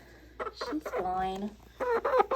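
A young hen clucks and squawks in short, close bursts while being held and having a harness fitted around her wings, with a person talking nearby.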